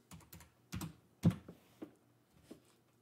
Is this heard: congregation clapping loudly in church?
no